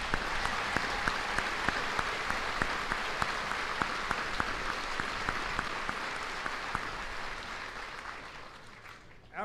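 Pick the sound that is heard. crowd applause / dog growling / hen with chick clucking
crowd applause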